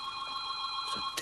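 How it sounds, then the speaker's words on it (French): A telephone rings indoors with a steady electronic tone that holds throughout, joined near the end by a couple of brief soft knocks or movements. "Téléphone, tu ne l'entends pas?"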